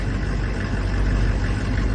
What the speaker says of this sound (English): Engine's running.